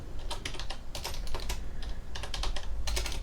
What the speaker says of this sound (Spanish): vamos a poner usuario,